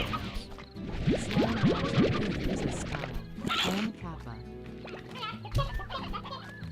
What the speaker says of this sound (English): so many chickens in here